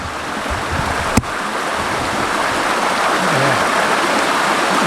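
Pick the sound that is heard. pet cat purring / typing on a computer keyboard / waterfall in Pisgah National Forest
waterfall in Pisgah National Forest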